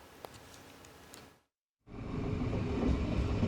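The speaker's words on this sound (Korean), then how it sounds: "서울역에서 출발한 KTX 열차가 묵호역에 들어오자" A KTX high-speed train from Seoul pulling into Mukho station on the east coast: a low, steady rumble that builds after a brief silent gap and stays loud and close to the end.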